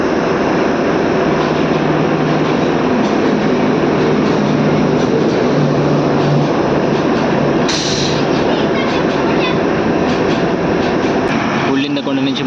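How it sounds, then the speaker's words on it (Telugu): Nagercoil–Kacheguda weekly express rushing past on the line near Ullindakonda while a DEMU waits, a loud continuous rumble and clatter of wheels throughout, close by, with a brief horn-like burst near the end. "వచ్చేస్తుంది నాగర్కోయిల్ కాచిగూడ వీక్లీ ఎక్స్ప్రెస్"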